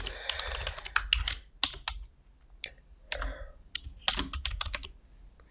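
Close keys clatter on a computer keyboard in irregular bursts of quick taps with short pauses between them, standing alone without talk.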